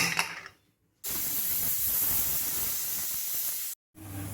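Steady loud hiss of steam jetting from a pressure cooker whistle as butter bean kuzhambu cooks, starting abruptly after a brief pause, holding for nearly three seconds, then cutting out before resuming.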